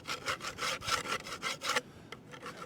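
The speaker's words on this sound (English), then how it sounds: "We'll just give it a little scrape first" Scraping a painted wood surface by hand, a series of rhythmic rasping strokes, close and moderately loud, then a pause and a few lighter, quicker scrapes.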